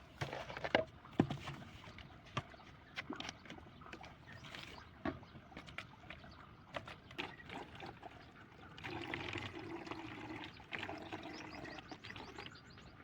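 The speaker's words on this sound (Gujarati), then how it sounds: "હવે અમે પાણી ભરવી છીએ." Water runs and trickles into a plastic bottle being filled for a homemade bottle rocket, a close, uneven pouring sound with small splashes and knocks that steadies into a continuous fill near the end.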